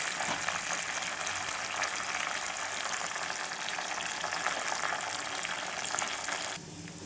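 Curry leaves with green and red chillies fry in hot oil for tamarind rice, giving a dense, steady, crackling sizzle that eases slightly near the end.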